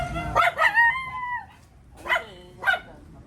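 A dog barks a few times in short, sharp bursts with pauses between them, fairly close, with no talking.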